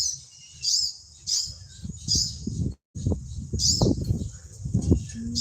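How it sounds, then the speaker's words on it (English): Birds chirp in short, repeated bursts a little way off, high and bright, over low city rumble and wind buffeting close by. "Oh, I hear birds."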